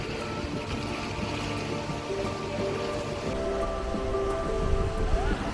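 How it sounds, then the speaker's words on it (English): Sea waves around a boat crossing the Gulf of Carpentaria near Thursday Island, heard as a steady broadband wash and splash under a constant motor hum, fairly loud and continuous. "the waves here are very confusing"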